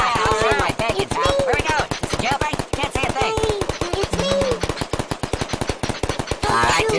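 Rapid, sustained gunfire in a video game rattles loud and close in dense automatic bursts, while voices talk over the shooting.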